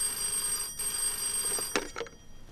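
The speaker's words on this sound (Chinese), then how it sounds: "司令员，陈老总，请你听电话。" An old telephone bell rings in a wartime film scene at a military command post, a steady metallic trill that breaks off near the end with a couple of short knocks.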